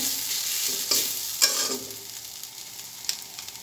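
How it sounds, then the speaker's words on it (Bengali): Rohu fish tail bharta frying in a pan while being stirred over and over, a constant oily sizzle broken by several spatula scrapes and knocks against the pan. "আমি এভাবে নাড়াচাড়া করে বারবার নাড়াচাড়া করে তারপর নামিয়ে নিব"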